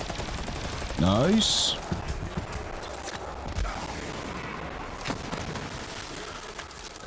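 Bursts of automatic gunfire from Borderlands 3 on PS5 crackle through a busy game soundscape, with a short whooping tonal effect near the start and someone briefly speaking.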